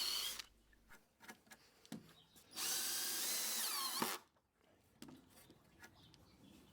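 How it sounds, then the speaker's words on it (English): A power drill cutting countersink holes by hand into angled pallet wood for a picnic bench, one sustained whining burst of about a second and a half amid quiet clicks and handling noises. "I'm drilling the countersink holes on the angled surfaces manually"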